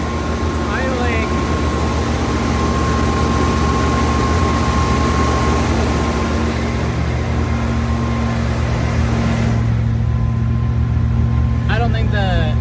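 A 1979 Corvette with the L82 V8 idles steadily on its own, a continuous low rumble with a constant mechanical whine, loud and close throughout the recording.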